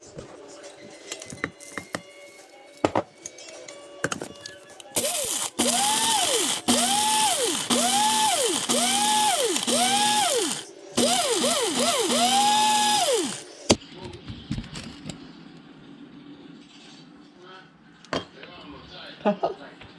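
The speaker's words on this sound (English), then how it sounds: "now I'm going to grind up this cauliflower" A kitchen grinder whirs loudly as it reduces cauliflower to flour, running in pulsing bursts of a few seconds each, with clinks, handling noises and talk around it.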